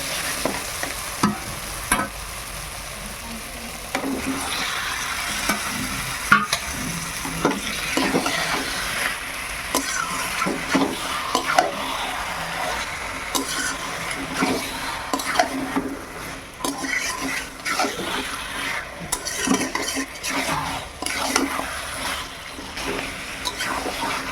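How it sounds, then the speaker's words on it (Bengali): Chicken meat fries in a pan of browned spices while being stirred, a loud continuous sizzle broken by repeated scraping and clanking of the spoon against the pot. "মশলা খুব ভালোভাবে ভাজা হয়ে গেছে, এইবার আমি মাংসটা তুলে দেবো।"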